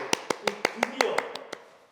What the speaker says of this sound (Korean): 박수를 좀 쳐야 될 것 같아요